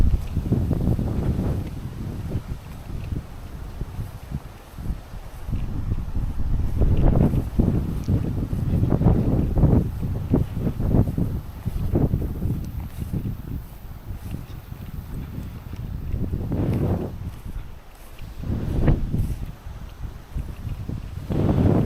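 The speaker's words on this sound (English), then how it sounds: "You can see when it's really windy" Strong, gusty wind blows across a wheat field on a farm, a low rumbling buffeting that swells and fades in repeated gusts for over twenty seconds, with no talking.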